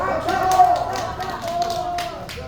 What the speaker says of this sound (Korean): 박수가 시작했습니다. 힘차게 박수!